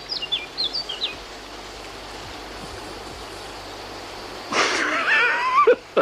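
Small bird singing from a tree outdoors: a few brief high chirps at the start over a steady running-water hiss, then a louder burst of warbling song near the end.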